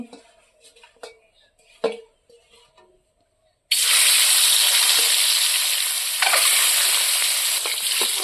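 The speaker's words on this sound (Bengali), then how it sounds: "এখন ডিমগুলি আমি ভাজি নিব, কড়াইতে তেল দিয়েছি" Eggs frying in hot oil in a wok, a loud sudden hiss that begins midway and sustains steadily up close, preceded by a few quieter clinks and taps.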